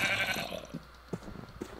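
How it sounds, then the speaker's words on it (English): A sheep in the Minecraft video game gives a few short bleats over a faint ambient background, heard close and fairly quiet. "a sheep scared the crap out of me"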